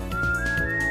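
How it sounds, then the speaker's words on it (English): Proto Man's signature whistle from a Mega Man fan game, a single steady tone holding for almost a second over busy game music. "we got the whistle."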